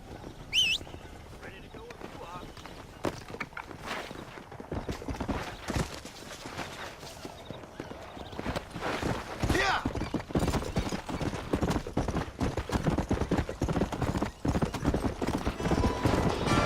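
A horse gallops in the video game Red Dead Redemption, its hooves clip-clopping in a quick, steady rhythm that grows louder toward the end. Shouted voices and game dialogue are heard over it.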